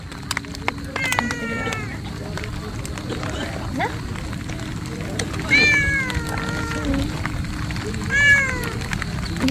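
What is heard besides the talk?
cats meowing at a mountain campsite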